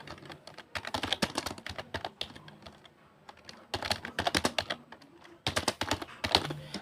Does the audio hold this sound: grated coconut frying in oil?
no